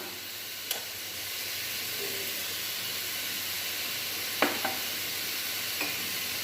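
Tomato and onion sautéing in a pan for mushroom gravy, a continuous soft sizzle broken by a few sharp spatula scrapes and taps against the pan.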